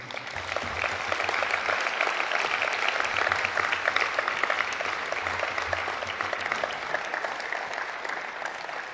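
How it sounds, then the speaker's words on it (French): Sustained applause from a congress audience welcoming international youth delegates, a dense, even wash of many hands clapping at moderate volume throughout. "Je crois qu'on peut les applaudir."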